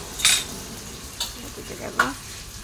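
Boiled potatoes are mashed and mixed by hand for aloo chokha, making three soft, squelching, sticky pressing sounds spaced about a second apart, close up with no talking.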